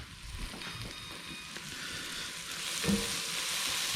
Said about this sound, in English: It's garlic time. You'll be able to smell this get real fragrant.